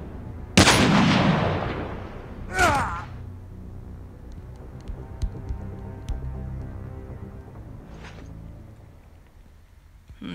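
Gunfire in the mobile game Call of Duty Mobile: two sharp, loud shot bursts early on, then scattered fainter pops and a later shot over a low background hum.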